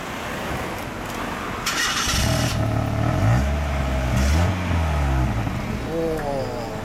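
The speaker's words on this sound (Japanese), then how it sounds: "エンジン音聞かせてもらえますか？" A 1990s Mazda MX-5 Roadster (NA8C) with a stock exhaust starts and idles with a low, throaty rumble, then revs in a couple of rising swells; people talk faintly alongside.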